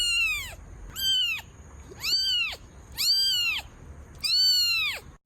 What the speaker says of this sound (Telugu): ఈ క్యాట్ బాగుందమ్మా